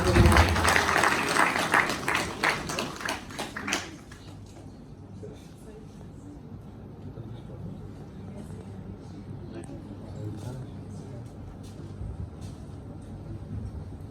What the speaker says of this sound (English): let's give a huge round of applause to Captain Bijay Lama